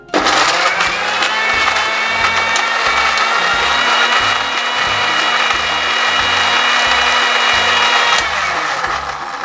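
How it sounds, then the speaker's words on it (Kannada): A kitchen mixer grinder whirs loudly with cooked pumpkin in its jar, a steady high motor whine with a rhythmic chopping rumble underneath, running for several seconds and then cutting off. "ಬೇಯಿಸಿಟ್ಟದನ್ನು ಮಿಕ್ಸಿ ಜಾರಿಗೆ ಹಾಕ್ಕೊಂಡು ರುಬ್ಕೊಳ್ಳುವ."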